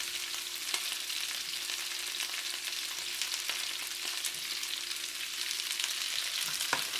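Pork riblets brown in a hot pan alongside sliced onion, ginger and garlic, a continuous close hiss of frying with occasional small pops and crackles, no voices over it.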